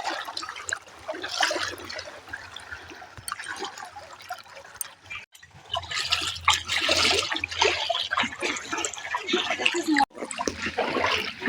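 Floodwater rushing along a village road past houses: a continuous loud wash of flowing, splashing water, close by, with someone talking over it for most of the time.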